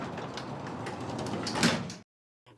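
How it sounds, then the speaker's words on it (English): Lift doors slide shut with a steady rumbling whoosh that swells into a final thud, then cuts to near silence before a faint trailing sound. "Patrick pressed the button, and the doors closed."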